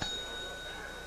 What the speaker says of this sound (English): in a highfalutin dinery like this here, you merely ring the bell